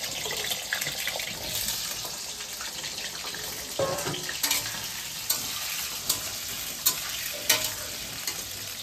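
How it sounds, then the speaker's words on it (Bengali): Potatoes fry in a pan with a constant close sizzle, broken by sharp scraping clicks as they are stirred, and no one speaks. "এবার আলুগুলোকে ওরমভাবে সুন্দর করে ভেজে নেব।"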